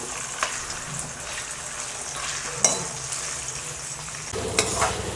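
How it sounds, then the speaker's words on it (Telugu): Cut potato pieces for sabudana khichdi stirred as they fry in a pan, a soft continuous sizzle broken by a few scraping strokes of the spoon, close up with no talking. "కట్ చేసుకున్న ఆలు వేసేసుకొని లైట్గా ఇట్లా కలుపుతుండాలి."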